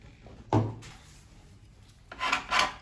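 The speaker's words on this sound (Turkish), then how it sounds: "Önce zımparamızı bitirelim." Sandpaper rubs across the wooden body of a saz in a few separate strokes: one sharp scrape, a quiet pause, then two louder rasping passes close up.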